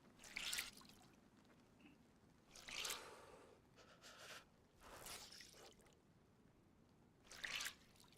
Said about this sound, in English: Gotta wring everything out.